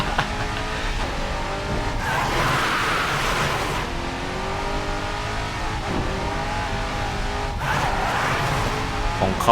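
Bugatti Centodieci in the Racing Master video game accelerating hard, a loud continuous engine roar with rising harmonic sweeps, gear-shift dips and brief tyre-skid noise throughout, no talking.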